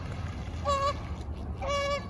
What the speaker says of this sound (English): Don't know what the problem is with this goose, but it's making quite a ruckus